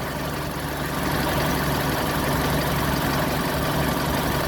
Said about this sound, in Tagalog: Ganda yung tunog ng makina natin guys